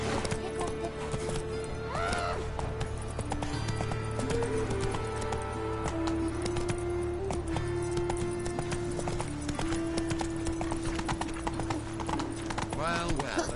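Roach, the horse in The Witcher 3, trots with a rapid, steady clip-clop of hooves under game music, while a voice speaks over the hoofbeats.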